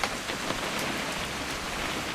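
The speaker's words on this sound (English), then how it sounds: "It's gonna rain the whole weekend," Steady rain falling in the video game What Remains of Edith Finch, a continuous broadband hiss of drops pattering on surfaces, fairly loud and even throughout with no voices.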